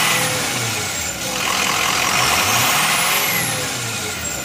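The 6.0 Powerstroke diesel V8 in a 2005 Ford F350 runs at a raised, steady rev for several seconds with a broad, loud mechanical roar and no talking.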